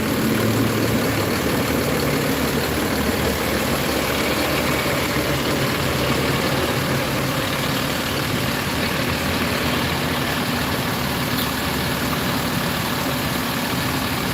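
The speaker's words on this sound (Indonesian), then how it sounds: "inilah bunyi dari mesin 1526 NG NPM" Bus with a 1526 NG engine idling at a terminal during a roadworthiness inspection, giving a steady, loud diesel drone with a low rumble that holds unchanged throughout.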